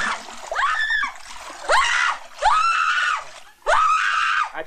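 A woman in a 1994 Russian comedy film lets out four long, loud, piercing screams, each rising and then holding, separated by short pauses.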